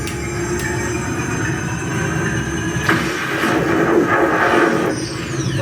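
A GPstar proton pack upgrade plays its Frozen Empire sound effect, a steady mechanical rumble with a high whine that swells in the middle and ends in a descending sweep, loud and continuous with no talking.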